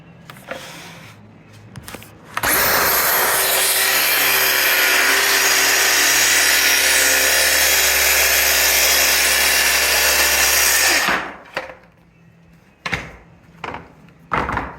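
A track saw rips freehand along a wooden window jamb, a loud sustained cutting whine lasting about nine seconds, preceded and followed by handling knocks and clatter.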